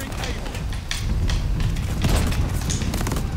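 A shotgun fires in a first-person shooter game, with loud booming blasts and mechanical clacks in quick succession, close and punchy, while a voice talks faintly underneath.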